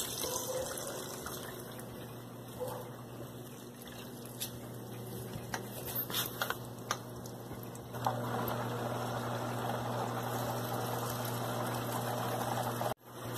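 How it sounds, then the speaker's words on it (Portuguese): An Electrolux LTC10 washing machine fills with water on a bed-linen cycle, a steady rush of running water that jumps louder partway through and then cuts off near the end, with faint clicks and no talk. "a máquina já vai começar a encher"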